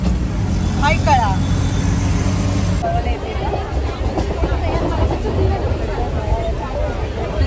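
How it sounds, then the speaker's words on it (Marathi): Riding in an auto rickshaw toward Kalyan station in Mumbai, a low engine rumble and road noise run continuously, with passing traffic and people talking nearby. "गाईज, आता आम्ही रिक्षामध्ये बसलेलो आहोत."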